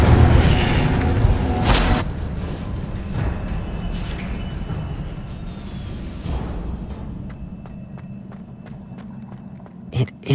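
A fire spell cast in Hogwarts Legacy: a loud whooshing burst of flame near the start, then a sustained roaring crackle with scattered sharp impacts and clatters toward the end.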